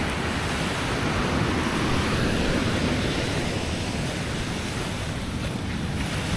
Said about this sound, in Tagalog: Malakas ang alon sa may pangpang.